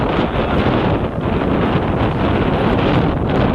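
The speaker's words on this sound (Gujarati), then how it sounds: "બહુ પવન આવે" Strong wind buffets the microphone in a loud, continuous roar, gusting without a break and with no voices.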